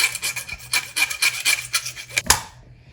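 Overly long faceplate screws being ground down by hand during a USB outlet installation, a quick run of close, scratchy rasping strokes that ends in a sharp knock before trailing off to quiet.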